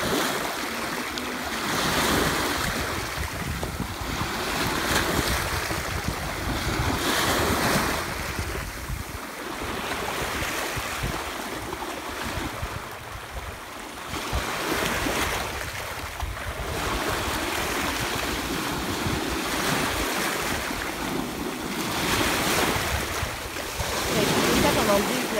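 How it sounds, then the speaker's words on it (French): Sea waves roll onto a beach in Sardinia, a steady wash of surf rising and falling in broad swells with some wind noise on the microphone, continuous for about twenty-five seconds. "je trouve ça tellement agréable d'entendre ce bruit de la mer"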